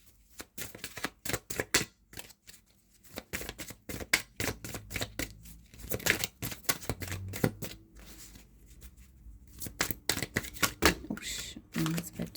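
Tarot cards being shuffled close by in a rapid, uneven run of crisp riffling and flicking bursts with brief pauses between them.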